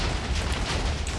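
A Minecraft TNT explosion fills the moment with a dense, loud roar, continuous and close, with no talk over it.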